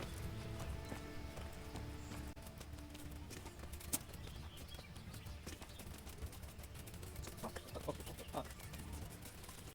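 Horse hooves clip-clop in the video game Kingdom Come Deliverance, a steady close rhythm of hoofbeats along with a brief whinny and clucking chickens nearby, with some faint background voices.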